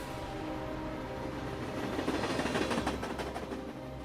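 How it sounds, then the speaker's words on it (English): Train rolling past just feet from the tracks during a roadside truck recovery, a loud steady rumble of wheels and cars that swells and grows rougher toward the end, heard alone without talk. "Trains."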